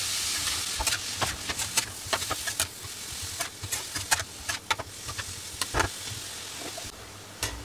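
A spatula stirs ash gourd curry with dried lentil dumplings and chili powder in a pan, giving a close, irregular string of scrapes and taps over a constant frying hiss.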